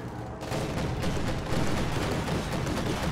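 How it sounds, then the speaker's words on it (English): Autocannon fire in a real-time strategy video game rattles as a dense, loud burst of rapid shots and booms, continuous and close, filling the whole moment. "Autocannon's working on those conscripts, force a retreat."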